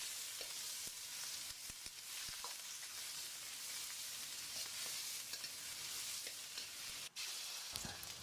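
Curry leaves sizzling in hot oil in a pan for biryani, a faint steady frying crackle with occasional soft stirring clinks throughout.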